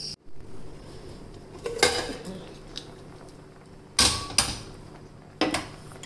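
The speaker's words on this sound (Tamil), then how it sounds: "இந்த குக்கர் மூடி போட்டு ஒரு 10 நிமிஷம் சிம்மில் இப்படியே வேகட்டு." The metal lid of a pressure cooker holding rajma and ragi goes on, with a few sharp clanks and creaks spaced over several seconds against a quiet background.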